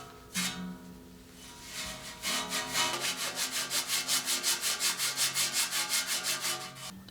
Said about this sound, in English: the first thing I'm doing here is I'm polishing this up, just kind of getting some of the crusty stuff off that's built up over the years